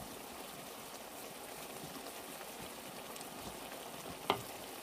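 Onions and carrots frying in a pan for a vegan stir-fry, giving a faint, steady hiss of sizzling oil with a single small clink near the end.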